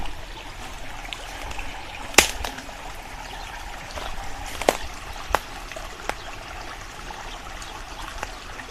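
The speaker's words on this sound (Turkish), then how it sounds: "Böyle yanımda küçük bir dere akıyor. Şıkır şıkır suyu var." Small roadside creek babbling and trickling nearby, a continuous soft water wash dotted with brief splashy drips and gurgles, no one talking.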